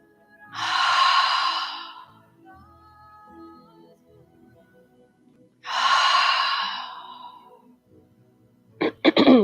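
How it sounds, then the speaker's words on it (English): Two long, forceful exhales through the mouth during a breathwork session, each lasting about a second and separated by quiet, followed by a brief burst of sharper sound at the end. "a couple of purging breaths."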